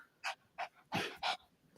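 A small dog gives four short, sharp barks or yelps close by, spaced irregularly over a couple of seconds in an otherwise quiet space.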